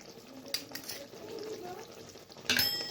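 A spoon scrapes softly as ground cumin, coriander and Kashmiri chilli powder are stirred in a pan for a chital fish curry with flat beans and potatoes, with quiet sizzling underneath and a sharper clink near the end.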